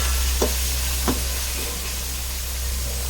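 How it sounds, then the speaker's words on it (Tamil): Onions sautéing in a pan for mutton biryani, a continuous close sizzle and hiss with a couple of brief stirring scrapes near the start, no talk. "வெங்காயம் ஓரளவு வதங்கிடுச்சு. நல்லா வதங்கணும் வெங்காயம்."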